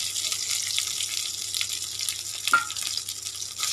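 Ground paste and curry leaves sautéing in hot oil for thuthuvalai rasam, a dense continuous close sizzle with faint stirring scrapes, heard on its own without speech.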